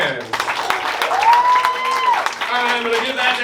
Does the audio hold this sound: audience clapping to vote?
yes